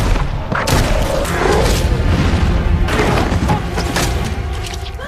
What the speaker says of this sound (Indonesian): dikejutkan dengan adanya suara tembakan dari arah luar